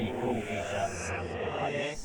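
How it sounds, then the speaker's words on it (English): A reversed wet reverb decay from a room reverb plugin, a smeared swelling wash of sound that builds and shifts over two seconds, moderately loud and alone. "Flip allows you to reverse the wet decay effect"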